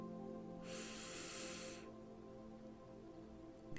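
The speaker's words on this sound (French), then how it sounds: "On va inspirer, ça veut dire prendre une grande respiration" A deep breath drawn in during a guided meditation for children: one soft, airy inhalation lasting about a second, faint and close, over a quiet musical background with no talking.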